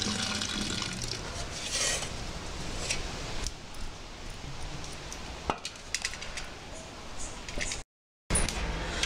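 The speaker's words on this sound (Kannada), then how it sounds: "ಹೊಗೆ ಸೊಪ್ಪನ್ನು ನೆನೆಸಿದ ನೀರನ್ನು ಒಂದು 1 ಲೀಟರಿನಷ್ಟು ಮಡಿಕೆಗೆ ಹಾಕಬೇಕು" Water soaked with tobacco leaves is poured into a clay pot to make a groundnut pest spray, giving an uneven splashing, trickling pour with a few knocks and a brief gap of silence near the end.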